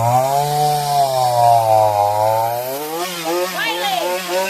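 A chainsaw engine drones loudly nearby, its pitch swelling and dipping as it works, then revving unevenly toward the end.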